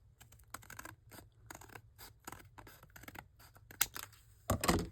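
Scissors snip through a vintage Reader's Digest journal page in a quick run of short crisp cuts, the paper crackling and rustling close by, with a heavier crunch of paper at the end and no talking.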